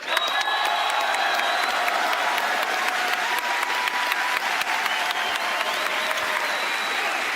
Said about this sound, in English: Please join me in thanking the new creative director of Siege, Joshua Mills.